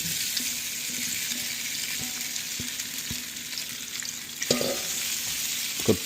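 Potatoes fry in hot oil with a continuous dense sizzle that holds steady. A few soft knocks and a brief stirring clatter near the end rise above the hiss.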